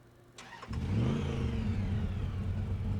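A Mad Max style car in the video game Cyberpunk 2077 starts up and revs loudly, its engine roar swelling after a short quiet lead-in and holding steady up close.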